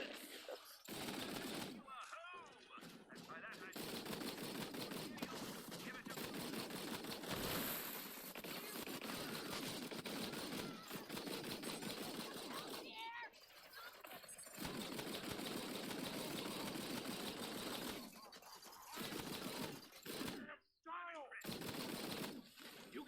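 Sustained automatic gunfire in the video game Borderlands 3, long rattling bursts broken by short pauses, with a player talking over the shooting throughout.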